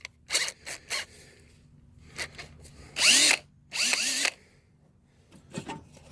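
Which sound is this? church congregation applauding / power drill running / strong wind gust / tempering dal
power drill running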